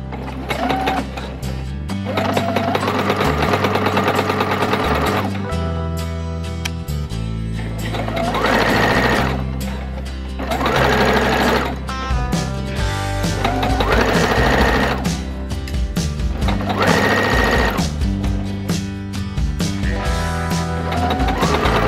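A sewing machine stitches a pink prom dress in long, fast, whirring bursts that stop and restart several times. The motor hum is loud and close, with a steady mechanical rattle and no speech.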